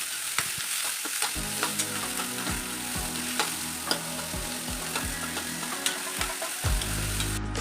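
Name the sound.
frying cumin, ginger, garlic and onion in a pan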